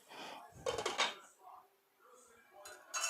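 A metal lid clatters onto a pan of sautéed onion and tomato with a few close clinks and knocks, while a person speaks around it.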